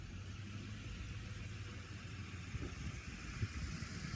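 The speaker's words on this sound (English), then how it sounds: "Always strange when a gigantic pickup truck drives slowly down this quiet little street of mine." A gigantic pickup truck creeps slowly down a quiet residential street, giving a faint, steady low engine rumble in the distance with a few soft bumps near the end.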